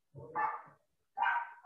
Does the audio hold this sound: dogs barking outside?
yes